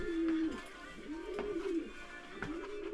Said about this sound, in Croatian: Evo i golubovi galame